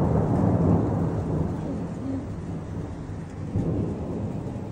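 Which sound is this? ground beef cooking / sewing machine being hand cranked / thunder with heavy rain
thunder with heavy rain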